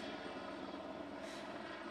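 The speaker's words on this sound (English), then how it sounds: "residents report helicopters everywhere." Helicopters flying overhead during a police lockdown in Watertown, Massachusetts, a steady droning rotor and engine rumble that holds evenly at a moderate distance throughout, with no talk.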